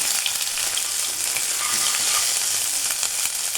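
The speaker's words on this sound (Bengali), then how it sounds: "এখন আমি মশলাগুলো কষে নেব" Ginger and whole spices such as bay leaf and cumin sizzle and fry in hot oil for a Bengali fish curry, a steady, close, dense hiss with no talk.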